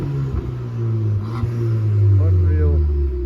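Ford Fiesta tuned to 300 BHP, its engine revving up and holding a loud, steady drone at close range, with voices talking over it.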